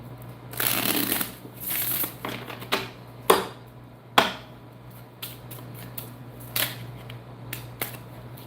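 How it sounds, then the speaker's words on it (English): Tarot cards being shuffled by hand, a series of crisp riffling bursts and sharp snaps at irregular intervals, close and fairly quiet over a faint steady hum. "Give me one more shuffle."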